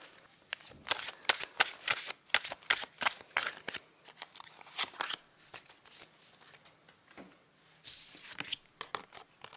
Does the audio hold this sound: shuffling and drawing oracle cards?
yes